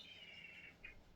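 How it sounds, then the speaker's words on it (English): Faint bird chirps and tweets sound in the distance over a soft background hiss, a few brief calls. "I can hear the birds singing."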